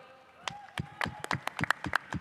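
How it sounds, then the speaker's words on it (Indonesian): Brief scattered applause from a small audience, a few sharp handclaps building over about two seconds, fairly close and not very loud. "tepuk tangan dulu dong"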